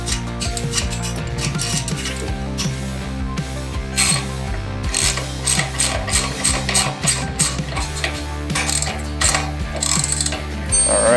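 A ratchet wrench clicks rapidly and steadily up close as it tightens a locking nut onto a foot peg bolt on a Harley-Davidson Sportster 1200 motorcycle, with metallic ticking and no talk.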